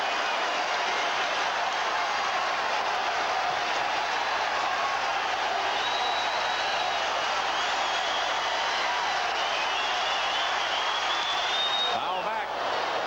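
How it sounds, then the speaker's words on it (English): A baseball stadium crowd roars steadily and loudly for Carl Yastrzemski as he bats for his 400th home run in a Red Sox game against the Angels, a sustained wash of cheering with a broadcaster talking over it. "the crowd is roaring for Carl Yastrzemski, imploring him to hit his 400th"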